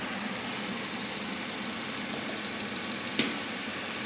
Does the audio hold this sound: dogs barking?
no